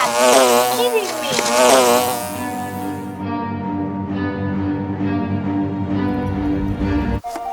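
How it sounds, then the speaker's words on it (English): A wasp buzzes close and loud in a home setting, a dense harmonic drone that wavers in pitch for several seconds before cutting off abruptly near the end. "That attack by the wasp was personal."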